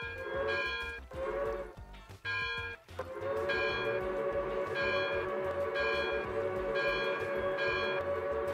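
A locomotive bell in a train video game rings steadily and loudly, with repeated even clangs, briefly broken off once near the middle before it resumes, alone with no talk.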